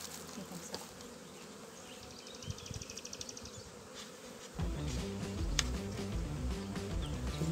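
A honeybee swarm being transferred into a hive box hums with a steady, dense buzz of many bees close by, swelling louder in the second half, with some handling clatter and no talk.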